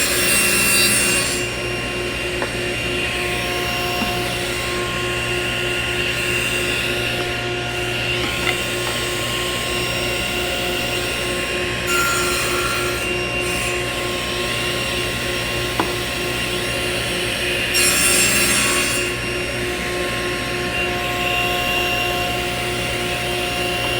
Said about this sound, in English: I'm getting ready to cut my rail pieces on my saw sled.